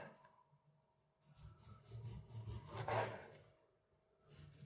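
A serrated Victorinox 6.7833 tomato knife saws through soft fruit at a home kitchen table, making a faint, close back-and-forth rasping that swells to a peak and then fades, with no talk.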